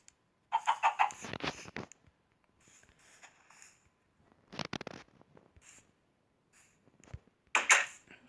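Blocky chickens in the Minecraft video game give a few short, faint bursts of clucking, separated by quiet gaps.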